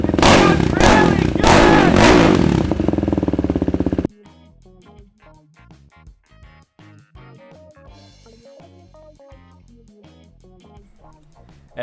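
A Husqvarna Vitpilen 401 with a hand-fabricated stainless steel tailpipe, catalytic converter and stock muffler removed and fibre-packed stainless muffler, rumbles loudly and revs for about four seconds before giving way to background music.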